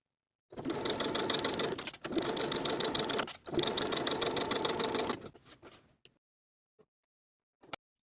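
Sewing machine stitching darts from top to point on a vintage dress, three steady runs of fast whirring stitches separated by short pauses, then slowing to a stop with a couple of faint clicks.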